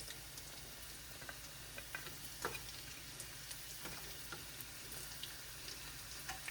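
Minced garlic, ginger and carrot sautéing in a pan for Jamaican peppered steak, a quiet steady crackling sizzle with faint scattered ticks and an occasional soft stir, no voices over it.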